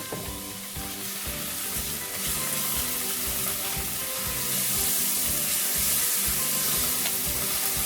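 Shrimp sizzle and spit loudly in a pan over medium-high heat, a dense continuous crackling hiss that swells slightly toward the end, with faint rhythmic pulses underneath and no voices.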